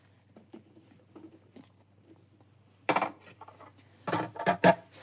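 Asparagus spears and mushrooms being dropped onto a metal baking pan: soft scattered taps early, then a few louder clattering bursts of vegetables hitting the pan near the end.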